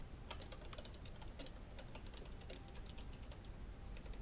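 Fingers type on a computer keyboard in a quick, irregular stream of soft key clicks, faint and steady over a low background hiss.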